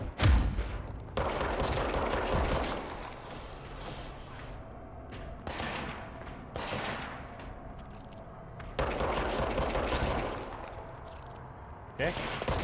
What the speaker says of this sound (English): What a weird self-reloading gun.